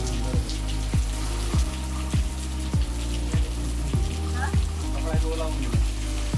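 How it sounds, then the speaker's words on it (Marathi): Steady rain falls on a surface along a rainy coastal route, a dense continuous patter with regular heavier drip thuds recurring throughout. "आता पाऊस चालू आहे"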